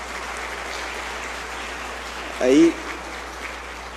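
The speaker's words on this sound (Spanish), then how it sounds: "si tienen ganas de aplaudir, aplaudan." A church congregation applauds during a Spanish-language sermon, a steady wash of clapping running through the whole stretch, with a short spoken word from the preacher near the middle.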